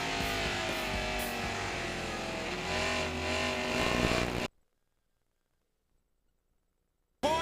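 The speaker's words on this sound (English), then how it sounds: "here goes Tony Stewart chasing leader Frank Kimmel at DuQuoin" Race cars roar around the DuQuoin track during the 2002 Federated Auto Parts 100, a loud, sustained engine drone for about four seconds before cutting abruptly to silence.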